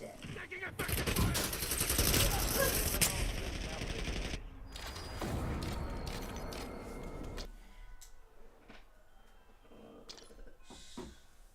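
Rapid automatic gunfire in the shooter Call of Duty: Black Ops 7, dense loud bursts of rattling shots for several seconds that thin out into scattered, fainter pops and cracks.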